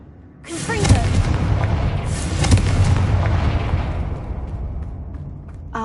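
Confringo spell blast from a Harry Potter video game: a sudden loud booming explosion that rolls into a sustained rumbling roar, with a second heavy burst about two seconds later, then slowly fading.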